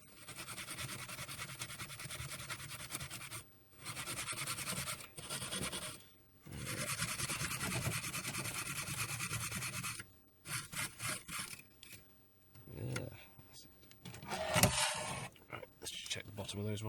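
A small part from a Commodore Amiga 500 Plus has light rust rubbed off in repeated close scratchy strokes, pausing now and then, with someone talking faintly in the background.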